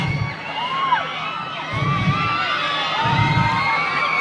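A large concert crowd in Songkhla, Thailand screams and shrieks continuously, with high piercing squeals rising and falling over a dense roar that swells in pulses.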